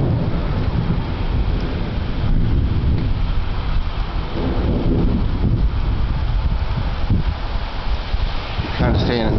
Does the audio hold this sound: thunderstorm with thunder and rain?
yes